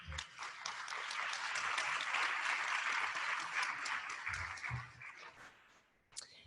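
Audience applause congratulating an award winner at a workplace awards event, a dense wash of many hands clapping that swells, holds, then fades out over several seconds.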